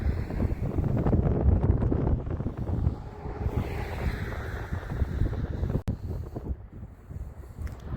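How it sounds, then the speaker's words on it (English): Strong wind blows hard during a snowstorm in Halifax, a loud continuous roar and buffeting across the microphone, with gusts and a brief sharp knock, no talking. "And this wind is still really strong."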